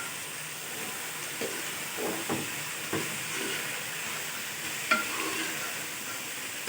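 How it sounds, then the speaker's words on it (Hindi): Chickpeas fry in oil over a medium flame with a constant soft sizzle and hiss, broken by a few faint stirring scrapes in the pan. "मीडियम फ्लेम पे इसको हम 2 से 3 मिनट घी में फ्राई करेंगे।"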